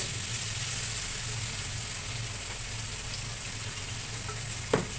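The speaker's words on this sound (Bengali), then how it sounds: "সবজিগুলোকে লবণ হলুদের সঙ্গে নেড়েচেড়ে মিশিয়ে নিয়েছি ভালো করে।" Spinach and mixed vegetables cook in a pan with salt and turmeric, giving a soft, even sizzle throughout and a single faint knock of a spoon near the end.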